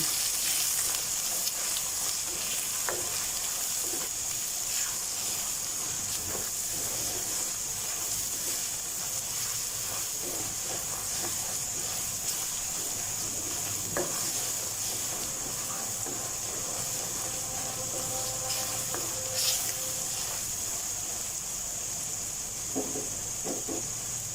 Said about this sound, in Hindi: भी इसमें तमाम स्पाइसेस ऐड कर देंगे। और अच्छे से इनकी भुनाई कर लेंगे।